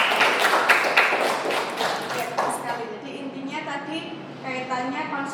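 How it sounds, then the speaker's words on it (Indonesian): Classroom applause for a student, a short burst of several hands clapping in quick uneven claps over the first couple of seconds, fading into a teacher's voice talking. "Bisa kasih aplaus buat Mbak."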